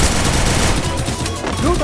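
Rapid gunfire crackles in a mobile MOBA battle game, a dense, loud continuous burst of shots with a voice speaking over the top.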